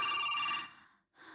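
A telephone rings with a short electronic tone that fades out, followed after a brief gap by a faint trailing sound.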